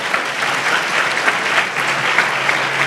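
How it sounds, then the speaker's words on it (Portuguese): Congregation applause in a church service for a young man, a dense, steady round of clapping from many hands, loud and close, with no talk over it. "Salve de palmas para esse irmão aqui, glória a Deus"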